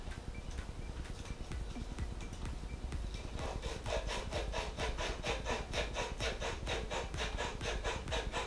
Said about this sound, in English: You're scoring the pipe to allow the solder to pull in and stick.